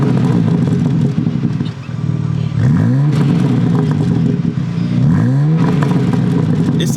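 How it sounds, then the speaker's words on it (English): BMW M4 G82 with the S58 engine idling loudly through its exhaust, then two quick revs that rise and fall in pitch, heard close up from outside the car. "Just rev it up a little bit."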